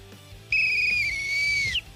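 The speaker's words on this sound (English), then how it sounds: "So that's the weak whistle?" A single human whistle, a thin high note held steadily for just over a second, fairly close and clear, starting and stopping abruptly with nothing else heard around it.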